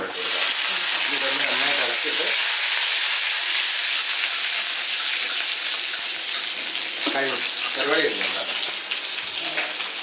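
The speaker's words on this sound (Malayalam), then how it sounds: "അപ്പം നമുക്ക് ചുവന്നുള്ളി ഇട്ട് കൊടുക്കാം." Shallots and curry leaves sizzle with mustard seeds in hot oil, a steady loud frying hiss that runs the whole time with faint stirring, for a Kerala jackfruit and dried fish curry tempering.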